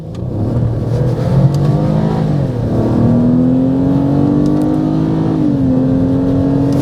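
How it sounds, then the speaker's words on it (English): A Toyota Blade hatchback with the 2GR V6 accelerates hard in a straight line, its engine note climbing loud and close through the revs, dipping at a gear change and then rising again, with no talking. "Driving the Toyota Blade, the first big selling point with this car is straight line performance."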